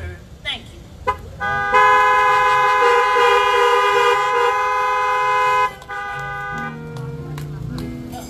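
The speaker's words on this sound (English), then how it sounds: "if you love Jesus, honk your horns" Car horns honk at a drive-in church service: a few short toots, then a sustained loud blare lasting about four seconds, followed by more scattered honks from other cars, with voices in the background.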